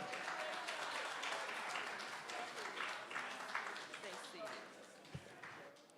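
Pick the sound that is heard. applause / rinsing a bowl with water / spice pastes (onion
applause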